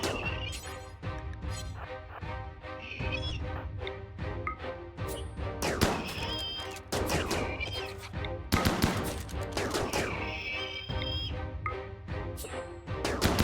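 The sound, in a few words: gunfire from colonists in the video game RimWorld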